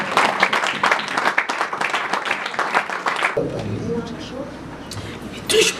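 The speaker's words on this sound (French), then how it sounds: "Acclamons le Seigneur." A church congregation breaks into loud applause and cheering during a deliverance service, a dense burst of clapping and voices lasting a few seconds before thinning out.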